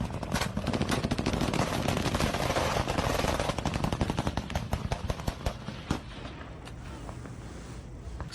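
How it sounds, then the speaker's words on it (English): Rapid automatic gunfire crackles in a night firefight, dense bursts of shots near and loud for most of the stretch, then thinning toward the end. "Is that really what a firefight looks like?"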